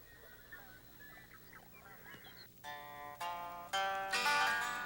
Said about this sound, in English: From their southern wintering grounds come the ducks, geese, and other migratory birds